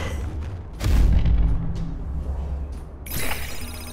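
Explosions in the video game Into the Breach, a heavy low boom followed by a second sharper blast with a bright crackling tail, loud and close with no voices.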